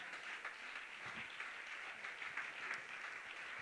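A church congregation applauds in praise during a French-language service, a faint, even wash of distant clapping that holds steady throughout with no voices over it.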